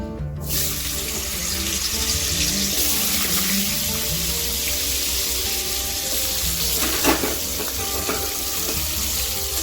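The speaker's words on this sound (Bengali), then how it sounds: "এবার আমরা ভেজে নেব আলু" Potatoes frying in oil in a pan for a potato and paneer curry, a steady loud sizzle running throughout with occasional spatters, close up with no talking.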